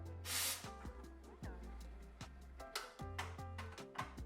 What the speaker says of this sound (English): spray the excess out so you don't get any milk stuck in there